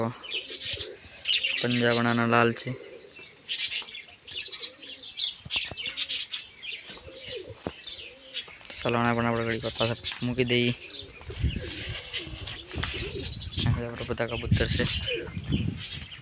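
Pigeons coo in low, throaty bursts several times, mixed with bird chirps and wing flutters, while a person talks nearby.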